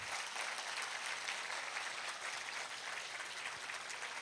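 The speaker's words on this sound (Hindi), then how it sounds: "तालियां कम पड़ी हैं" An audience applauds at a spiritual drama performance, giving steady, even clapping that carries on for several seconds at moderate volume with no voices over it.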